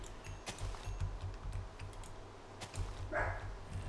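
A dog barks in the video game Minecraft, with several short, sharp yelps spread across a busy background of game sounds and clicking.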